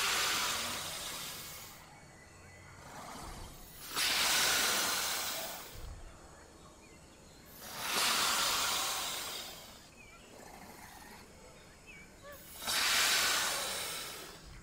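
A Deinosuchus crocodilian in the survival game The Isle hisses while calling for help, giving four long, loud breathy hisses spaced a few seconds apart with quieter gaps between them.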